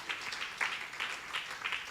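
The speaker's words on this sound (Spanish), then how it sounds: "Dale fuerte aplauso al Señor." A church congregation claps in worship, giving an energetic round of applause in rhythmic bursts that swell and ease over a couple of seconds, fairly close and without talk.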